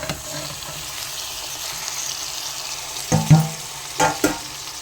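Tomato and drumstick pieces with onions fry in oil in a curry pan, a steady soft sizzle running throughout, with a few louder stirring clatters and scrapes near the end.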